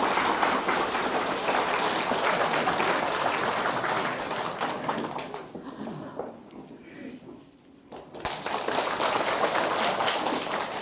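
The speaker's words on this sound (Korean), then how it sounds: "두 분을 모실 때 힘찬 박수로 맞이해 주시기 바랍니다." Loud, sustained applause from a congregation at a healing center welcomes two speakers, dipping to a lull in the middle before swelling again into strong, dense clapping.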